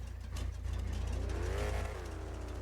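A lorry driven in a roleplay video game, its engine humming steadily and rising briefly in pitch as it revs before settling again, fairly quiet with no talk over it.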